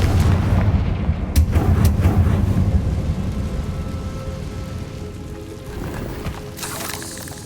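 Spell blasts from Bombarda and Confringo in the Hogwarts Legacy video game: heavy booming bursts, one sharp crack near the start, followed by rumbling explosive noise that slowly fades under a constant game soundscape.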